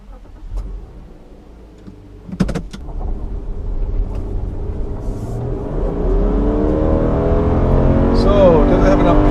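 A 2017 Subaru Legacy with the 3.6-litre engine accelerates on a test drive, engine note rising steadily in pitch and loudness over several seconds, with a brief clunk early on and cabin road noise throughout.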